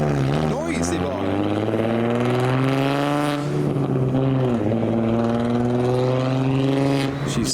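A loud modified Nissan 350Z with a colour-flip finish leaves a car show in heavy rain, its exhaust rising in pitch through two hard revving pulls, close and dominant.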